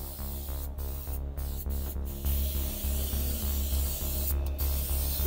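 Cleaner sprayed onto a Data East Tales from the Crypt pinball playfield in a series of close, quiet hissing spray bursts with brief gaps between them.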